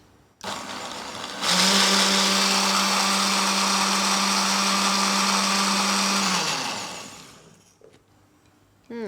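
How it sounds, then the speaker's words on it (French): A blender whirs loudly at high speed, puréeing food to a velvety consistency in a home kitchen; it spins up, holds a steady high-pitched roar for about five seconds, then winds down. "Je vais mixer très fortement afin d'obtenir une consistance veloutée."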